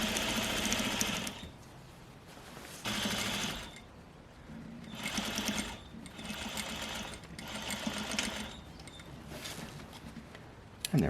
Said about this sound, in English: That is the last time we need to use the sewing machine on this project.